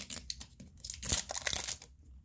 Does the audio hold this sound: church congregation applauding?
no